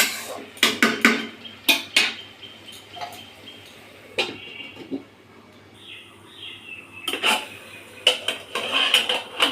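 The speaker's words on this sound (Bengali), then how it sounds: "মুগ ডাল দিয়ে নেড়ে চেড়ে নিয়ে তারপর আবার একটু ঢাকা দিয়ে দেবো" Malabar spinach and shrimp with mung dal stirred in a pan, with brisk clusters of spoon scrapes and clanks against metal, near and fairly loud, separated by quieter gaps and a faint steady background hiss.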